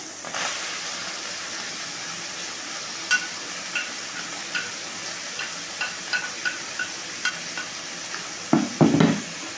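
Onion frying in a pan for a quiche filling gives a steady soft sizzle, with a spoon scraping and stirring in a string of brief clinks and a louder clatter of stirring near the end.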